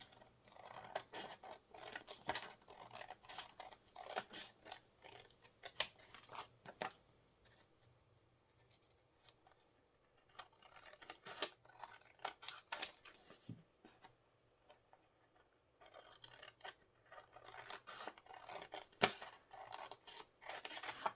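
Scissors cutting out paper for journal cards, close rhythmic snipping and rustling in bursts separated by quiet pauses, no talking.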